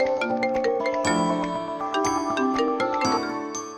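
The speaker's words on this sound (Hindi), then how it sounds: "आ गया तुम्हारे भैया का फोन।" A mobile phone rings with a bright, chiming electronic melody that plays continuously, close and loud, with no talk over it.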